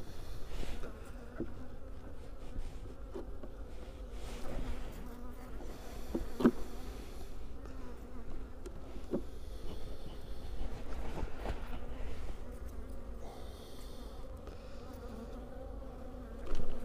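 A steady, close drone of honey bees fills the air at a beehive opened on a cool January day, with occasional light clicks and knocks of hive parts breaking through the constant hum.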